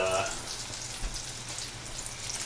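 Soft, steady sizzling and crackling of veal frying in oil, close by and fairly quiet, with faint speech-like murmurs in the background.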